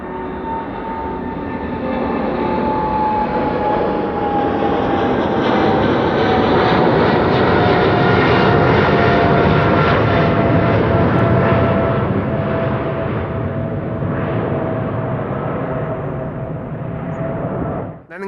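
A KLM Boeing 777-200 jet climbs out on a go-around at Schiphol, its engines giving a loud, steady roar with a slowly falling whine. The sound holds strong throughout and cuts off abruptly at the end, with no one speaking.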